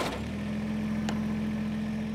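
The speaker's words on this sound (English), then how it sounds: "let me fire up the tractor and show you what I mean" A Kubota B or BX series compact tractor engine settling into a steady, close idle right after starting, with a constant low hum and a brief click partway through.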